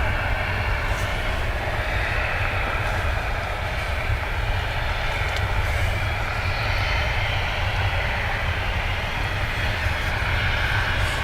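Aircraft engines roar steadily at Dublin Airport on a busy day, a continuous loud broadband drone of jet noise with no pauses and no voices.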